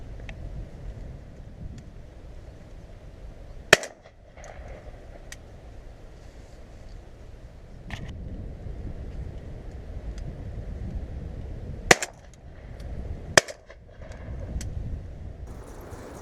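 Shotgun fired at pigeons coming in over decoys on a drilled field. Three sharp, distant-sounding reports ring out over steady wind and outdoor rumble, one early and two close together later.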